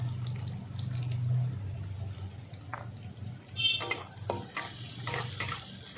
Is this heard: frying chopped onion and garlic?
yes